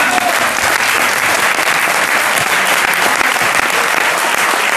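Loud, dense audience applause fills the whole stretch at an even, sustained level without a break.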